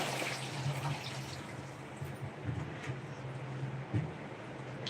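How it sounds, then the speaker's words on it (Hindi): Water running from a tap to fill a container, a faint steady trickle and splash with a low hum beneath, quiet and close. "और पानी भर रहे हैं भैया अभी।"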